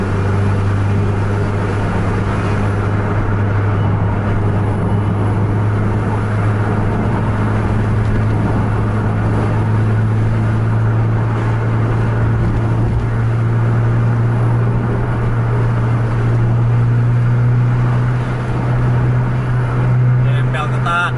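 A racing bus holds a strong, steady engine drone at full throttle, rising slightly in pitch toward the end, loud and close throughout.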